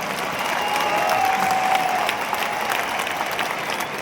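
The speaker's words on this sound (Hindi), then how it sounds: "तालियों की गड़गड़ाहट तो बनती है।" A large crowd at a program in Delhi breaks into loud, thunderous applause, continuous and evenly sustained clapping for four seconds with a faint tonal whine briefly riding over it.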